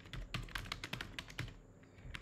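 Quick, irregular keystrokes on a computer keyboard, typed by a Java programmer, close, crisp and fairly quiet with no speech over them.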